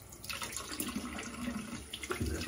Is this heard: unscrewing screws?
no